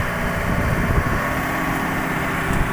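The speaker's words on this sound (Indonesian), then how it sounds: "Yuk, kita mulai mengoperasikan mesin." A rice harvester working in a paddy field drones at a steady pace with no voices over it, its engine a dense, continuous mechanical rumble.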